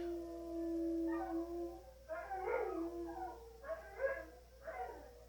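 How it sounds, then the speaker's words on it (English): Pet dogs howl together from another room in response to a tornado siren, long rising and falling wails that begin as one steady voice and break into several overlapping howls, moderately loud and somewhat distant with no talking. "every time they do that my dogs go nuts in the other room"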